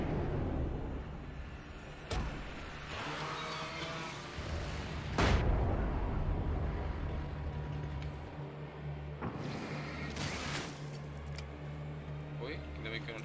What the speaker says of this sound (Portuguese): Vou usar granadas todas, quero nem saber.